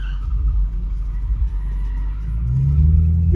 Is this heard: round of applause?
no